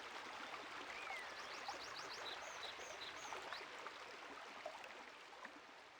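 Rushing waterfall ambience from the video game Steve Jackson's Sorcery!, a continuous hiss of falling water with faint bird-like chirps, steady and unbroken with no voices.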